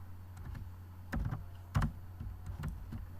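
Python code is typed on a computer keyboard: a handful of distinct key clicks at an irregular pace over a low, steady electrical hum, close and fairly quiet.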